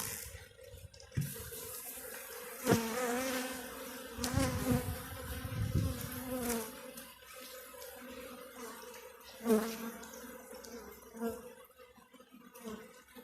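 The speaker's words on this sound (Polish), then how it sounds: "O, tutaj to jest dużo pszczoły. Uuu, zobacz ile." Dense, steady buzzing of many honeybees close by in an opened Warsaw-type hive, a droning hum that swells and dips, with occasional soft knocks.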